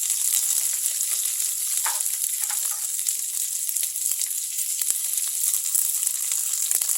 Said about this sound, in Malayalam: നമുക്കിതിലേക്ക് നമ്മൾ അരിഞ്ഞ് വെച്ചിരിക്കുന്ന സവാള ചേർക്കാം. എരിവ് വെച്ചിരിക്കുന്ന പച്ചമുളക് ചേർക്കാം.